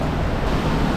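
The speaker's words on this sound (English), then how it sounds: "Back at the big old waterfall." Underground waterfall inside a cave, a steady, dense roar of falling water close by, continuous and broadband with no talk over it.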